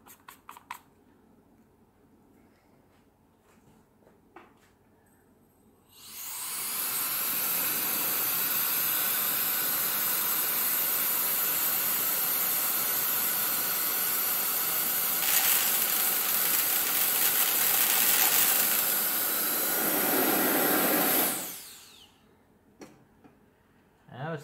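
A loud, steady rush of blown air from a KiCA Jet Fan 2 cordless jet fan with nozzle attached starts abruptly, holds for about fifteen seconds with a brief surge, then cuts off, with faint clicks before and after.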